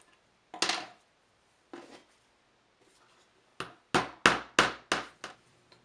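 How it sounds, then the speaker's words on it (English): Hammer strikes a nail setter to sink nail heads below the surface of a wooden part for a homemade track cleaning car: two separate taps, then a quick run of five sharp, ringing blows. "we're going to use a nail setter and set these heads below the surface"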